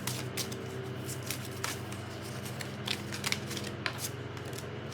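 Tarot cards are shuffled by hand in a soft continuous riffling and rustling, with small sharp snaps of card edges over a steady low room hum, close and alone.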